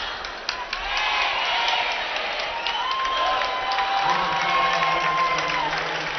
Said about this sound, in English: The crowd salutes her in an outstanding season as she heads over to the bench.